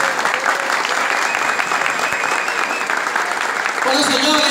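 Audience applause follows a senator's address to employees, loud and sustained, with voices mixed in near the end.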